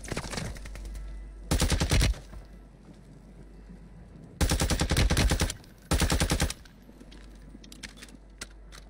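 Automatic gunfire in a video game, three loud sustained bursts of rapid shots about a second each, separated by quieter stretches with faint clicks and clatter.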